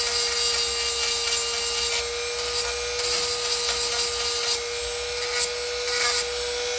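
A file worked by hand along the blades of a Stihl HLA 65 and 86 hedge trimmer, a steady bright rasping scrape carrying on close and loud with short regular breaks between strokes.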